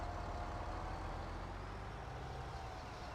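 A tractor engine in the Farming Simulator 17 video game rumbles steadily at a low idle, a constant close drone with a faint whine on top and no talk.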